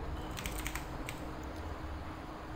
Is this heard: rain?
no